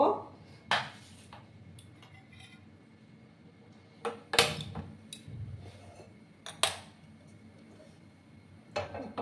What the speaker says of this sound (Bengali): কড়াই আমি বসিয়ে দিলাম